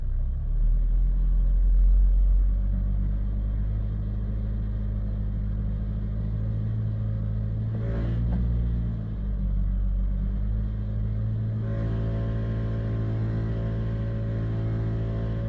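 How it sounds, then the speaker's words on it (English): A 2016 Chevrolet Cruze LT engine being stall tested gives a steady, deep idle rumble, with a brief rev swell midway and a rise in pitch near the end, close and continuous. "So I'm stall testing the engine."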